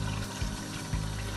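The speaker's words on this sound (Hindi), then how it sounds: "अब इसमें हमने तकरीबन ½ कप पानी डाल देना।" About half a cup of water is poured into a pan of cooking achari baingan (brinjal), a faint, soft pouring wash with a couple of brief low thumps.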